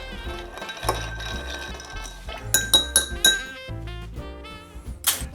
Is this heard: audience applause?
no